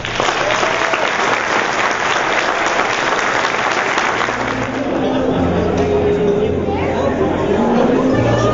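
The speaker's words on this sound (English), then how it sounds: "I still ask that you join in giving them a round of applause." An audience claps in sustained applause that fills the room, dense and loud from start to finish, with crowd chatter and a voice mixed into the clapping.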